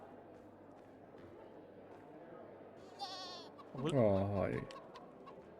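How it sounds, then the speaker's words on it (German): Goats and chickens in a farm pen beside sleeping quarters in the video game Dying Light 2. A tremulous goat bleat is followed by a louder, longer one over a low ambient bed, with a brief voice. "Direkt neben den Ziegen und den Hühnern."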